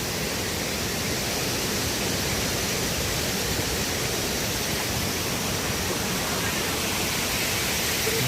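Kuang Si waterfall in Laos rushes as a dense, steady roar of falling water, loud and unbroken across the whole stretch, with no distinct voices.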